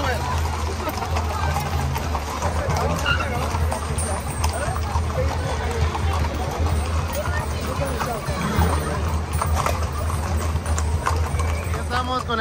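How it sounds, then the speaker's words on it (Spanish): Hundreds of horses clip-clop past in a cavalcade parade at the livestock fair in Culiacán, a dense continuous patter of hooves up close with a crowd murmuring and people talking throughout. "primera fila aquí viendo los caballos, cientos y cientos de caballos"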